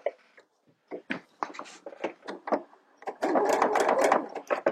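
A domestic sewing machine stitching a seam on a jersey V-neck T-shirt, short stop-start bursts of rapid mechanical whirring building into a longer continuous run, close and clear.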